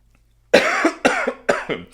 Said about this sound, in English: let me have a cough